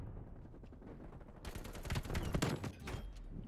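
Gunfire from an AK-47 in Call of Duty Cold War, rapid bursts of shots growing denser and louder midway, with rumbling game ambience underneath and no voices.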